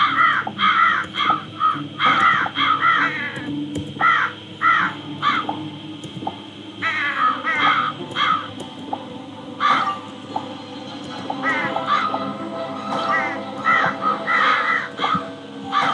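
Crows caw repeatedly in a Nancy Drew puzzle game, harsh calls arriving in quick bursts of two and three with short gaps between, loud and close over a steady low background hum.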